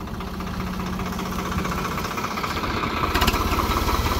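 A Swaraj 855 diesel tractor engine, running a Bharat reaper in a wheat field, idles steadily with a low, throbbing rumble, close by, getting slightly louder and rougher toward the end.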